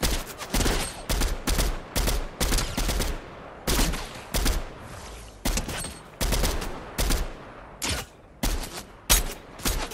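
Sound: gunfire in the video game Fortnite

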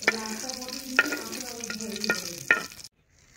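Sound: eggplant slices frying in a pan

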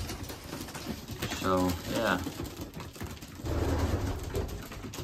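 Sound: racing pigeons cooing in the pigeon loft

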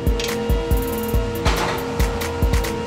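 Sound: ratchet turning during front hub bearing replacement

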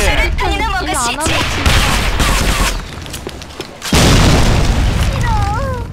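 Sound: grenade explosion in the video game Sudden Attack

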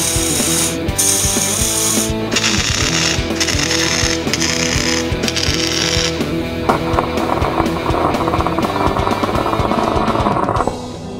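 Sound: tack welding a truss onto a Jeep JK rear axle

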